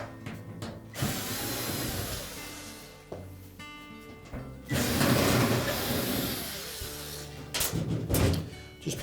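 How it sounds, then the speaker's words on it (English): A power driver whirs in bursts, removing retaining screws from the back panel of a Whirlpool washer during a drain pump repair. Loud, close motor runs are broken by short pauses and metallic clicks and rattles as the screws back out. "our next step is to remove the 2 retaining screws"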